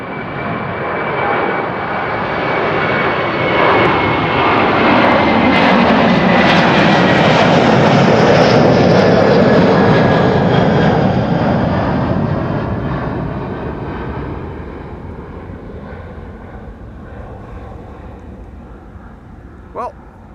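A Turkish Airlines jet departs Schiphol for Istanbul, its engine roar building and holding loud for several seconds before gradually receding, while people talk over it.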